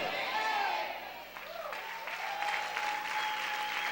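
A church congregation claps steadily throughout a worship service, a dense wash of applause with a few voices faintly mixed in.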